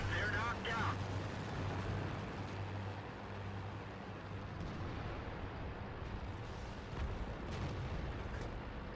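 Heavy tank cannon fire from a Leo PTA in World of Tanks rumbles through a dense, continuous wash of battle noise, with a broader blast early on and another near the end.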